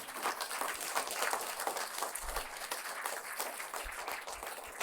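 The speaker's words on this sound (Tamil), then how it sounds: "அனைவரும் ஒரு நிமிடம் எழுந்து நின்று கரகோஷத்தோடு வாழ்த்துக்களை தெரிவிக்குமாறு அன்போடு வேண்டுகிறேன்" An audience at a book event rises in a standing ovation, filling the hall with continuous applause at a moderate, fairly distant level, with a few low thumps underneath.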